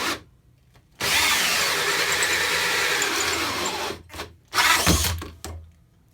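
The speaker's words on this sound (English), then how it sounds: "Pine 2x4, 2 1/8 inch hole saw, drill set to drill, and high speed." DeWalt 20V Max cordless drill at high speed driving a 2 1/8 inch hole saw into a pine 2x4: a loud, steady whirring bore lasting about three seconds, followed by two shorter bursts with brief pauses between.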